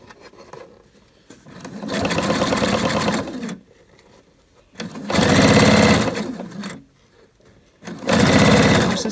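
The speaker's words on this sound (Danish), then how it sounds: "Og så syr jeg på tværs." Sewing machine stitching across the fabric lining of a French market bag, running in three steady bursts of rapid needle chatter separated by short pauses, close and loud.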